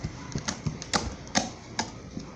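Slime folded and squeezed by hand, giving a handful of sharp, separate clicks and pops spaced about half a second apart, close up and fairly quiet with no talking.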